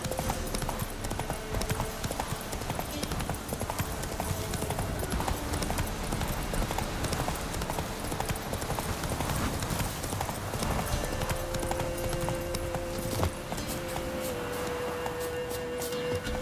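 Roach the horse gallops in The Witcher 3: Wild Hunt, a fast, continuous rhythm of hoof clip-clops over ambient game sound, steady throughout with a brief tonal cue late on.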